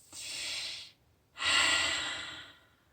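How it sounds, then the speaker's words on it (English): Two deep inhalations through the nose, each a soft, airy rush lasting about a second, separated by a short pause during a guided breathing exercise; close and quiet with no talking. "Breathing in through the nose, filling up the belly, the chest, the ribs."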